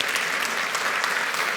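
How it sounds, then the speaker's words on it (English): An audience at the DevOps Enterprise Summit in London claps together in a short, dense burst of applause that holds steady and fairly loud for the whole moment. "Did it connect? Applause?"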